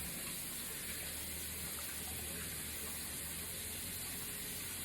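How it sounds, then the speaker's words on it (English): Tap water runs steadily in a continuous broadband hiss and gush, close and unbroken throughout, with no voices over it. "first turn off the water"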